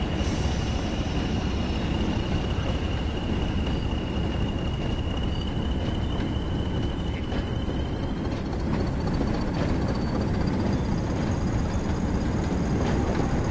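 A locomotive slowing under its loco brake in Train Sim World 5, giving a steady loud rolling rumble with a sustained high brake squeal that shifts in pitch, with no talk over it.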